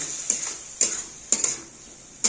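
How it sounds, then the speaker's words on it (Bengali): Shahi paneer gravy with sugar and vegetables is stirred in a pan, giving five sharp, close spoon scrapes and taps at uneven intervals over a soft, steady hiss, with no talk. "এইটাই আমি ভালো মতো এবার নাড়াচাড়া করে নিচ্ছি"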